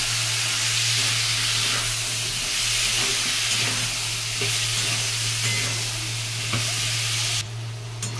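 Turmeric and chili powder spice batter sautéing in a hot pan, a steady close sizzle with faint stirring scrapes throughout, no voices.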